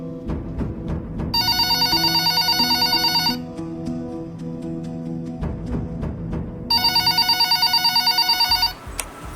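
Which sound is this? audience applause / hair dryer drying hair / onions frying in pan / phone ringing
phone ringing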